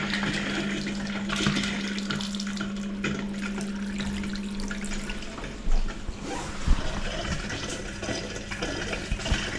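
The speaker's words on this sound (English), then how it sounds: "Ready for water back on now." Water rushes through household plumbing after the supply is turned back on, a steady hiss with a faint hum that drops away partway through, followed by a few sharp knocks and splashes.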